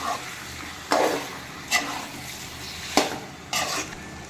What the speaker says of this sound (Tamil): இப்போ இதை நல்லா கிளறி விட்டுக்கலாம்.